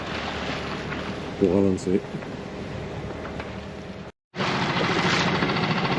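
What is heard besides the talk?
sailboat motoring under engine with a little genoa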